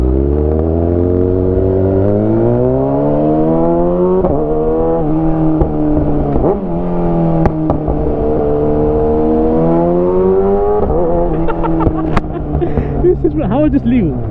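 A Kawasaki ZX6R fitted with an SC Project CRT exhaust on the road, its loud, raspy engine climbing through the revs in repeated rising sweeps with sharp drops at each gear change and pops near the end.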